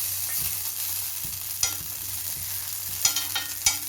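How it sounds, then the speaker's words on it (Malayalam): Sunflower oil in a hot pan on the stove, with a steady low sizzle and a few sharp clinks and scrapes of a utensil against the pan, with no one speaking. "ഇത് നമുക്ക് സൺഫ്ലവർ ഓയിൽ ഒഴിച്ച് കൊടുക്കാം"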